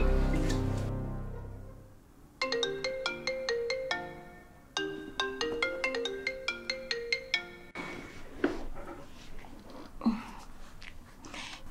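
A telephone ringtone plays in two clear melodic bursts of repeated chiming notes, loud and close, then stops; afterward only faint rustling and handling noises remain, with no talking.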